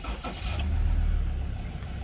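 A 2015 Ford Wildtrak pickup with the 3.2 litre engine starts up and settles into a smooth, deep idle, a steady low rumble heard up close with no talking.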